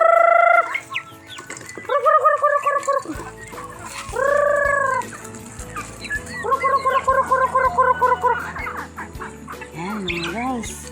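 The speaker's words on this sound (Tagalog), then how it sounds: "Nagpapakain ng aking mga alagang mga manok." Chickens being fed cluck and squawk in short bursts close by, with a person talking in Tagalog intermittently in between.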